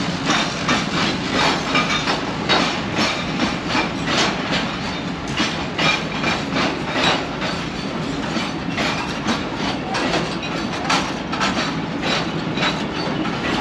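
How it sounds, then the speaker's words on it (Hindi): A freight train rolls past a railway platform at Padidan station, a loud, steady rumble with repeated clickety-clack of wagon wheels over rail joints running the whole time, close by and with no talk. "एक और ट्रेन आ रही है, मेरे ख्याल है वो भी फ्रेट ट्रेन आ रही है।"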